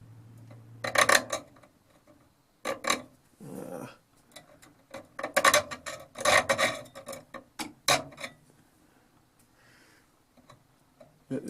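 Small vintage hand drill bits being sharpened with a file, giving bursts of rasping strokes separated by quiet pauses, close up with no talking.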